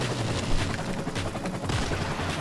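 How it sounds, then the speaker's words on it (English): Gunfire in Call of Duty Modern Warfare during a free-for-all sniper match, with bullets flying from several directions: dense, noisy bursts and impacts fill the whole stretch at a steady, loud level without talk. "And I'm getting shot. And bullets are everywhere, and I don't know where they're coming from."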